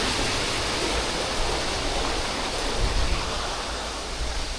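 Rushing water along a waterfall trek at Aguinid Falls in Oslob, Cebu, a steady broadband roar that fills the whole stretch without a break, close and fairly loud, with no voices.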